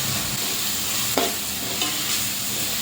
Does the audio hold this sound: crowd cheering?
no